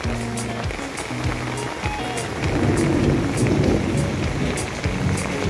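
Steady heavy morning rain pours down at a house in Thailand in a dense, continuous hiss, with low rumbling underneath and no voices.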